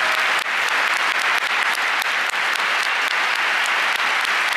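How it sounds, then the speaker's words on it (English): Dense, sustained applause from a large conference audience thanking journalists and a lawyer, steady and loud from start to finish with no pause in the clapping. "a big round of applause for Vanessa, Lena Rohrbach, Sönke Iwersen"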